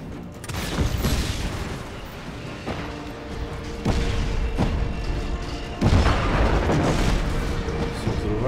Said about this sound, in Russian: Все взрывается.